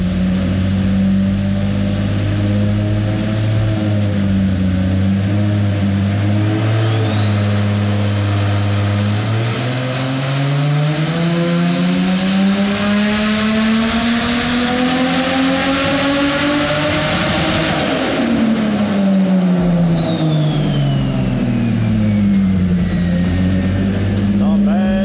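A Nissan R33 Skyline with an RB25 engine revs on a dyno and misfires from wrong spark plugs, a loud continuous engine howl climbing steadily in pitch and then falling back, close and sustained.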